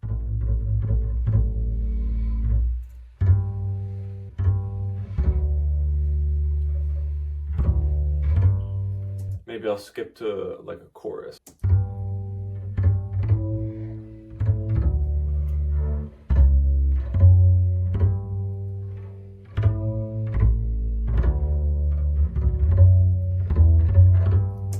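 Plucked double bass played by a friend runs as a steady, full low line through a recorded pop-ballad arrangement, with a short break around the middle where the mix drops to brief noisy clatter before the music returns.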